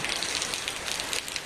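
Rain at Kadamakudy village in Kerala, near the village church: a steady, fairly faint hiss of raindrops pattering on surfaces, with no voices.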